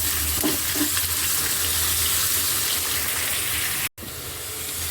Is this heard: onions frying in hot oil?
yes